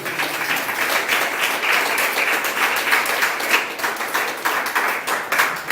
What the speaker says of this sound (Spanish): dale fuerte aplauso a Cristo Jesús